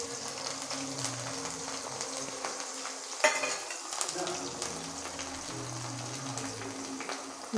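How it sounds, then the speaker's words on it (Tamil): Onions, garlic and curry leaves sauté in a pan of hot oil for a Tamil sudumbu fish curry, hissing steadily up close with stirring scrapes and one sharp clink of utensil on pan midway. "ஒரு அஞ்சு நிமிஷம் வெங்காயம் வதக்குவோம்"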